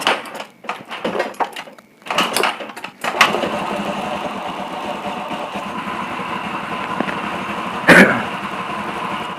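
A Suzuki Spin scooter engine catches after repair work and idles steadily, preceded by a few short cranking bursts, with a brief louder blip near the end.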